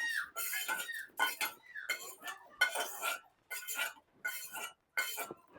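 Fried whole spices being scraped and tipped from a pan into a mixer jar, with a series of sharp metallic clinks and scrapes coming in short bursts separated by brief pauses, close and clear.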